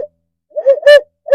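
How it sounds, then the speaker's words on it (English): Primos plastic owl hooter locator call blown in a short series of hoots: one clipped note, a pause, then three resonant rising-and-falling hoots, loud and close, with no talk. "This is simply an owl hooter call."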